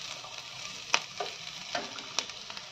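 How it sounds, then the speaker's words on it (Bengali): Chopped onions frying in a pan, a steady bright sizzle with occasional stirring clicks and scrapes of a utensil, close and alone without speech. "ভালোভাবে পেঁয়াজ ভাজা হয়ে গেছে।"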